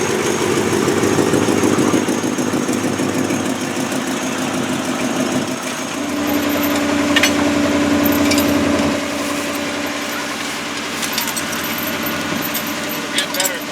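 A Chevrolet K5 Blazer's engine runs in a steady, loud, close rumble as the truck backs out of the woods, with voices talking over it.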